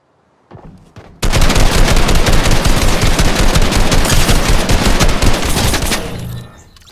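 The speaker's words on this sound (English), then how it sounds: "So here's a clip of me trying to hit fire with an AR on legacy." Sustained automatic assault rifle fire in Fortnite on legacy controller settings, loud and dense from just after one second to about six seconds, then trailing off, with no talking.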